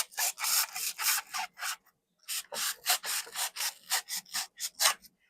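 Rhythmic scraping strokes of an 18 millimeter cutting knife carving wood into a dragon, close and bursty, a run of rasping cuts, a brief pause, then another quick series.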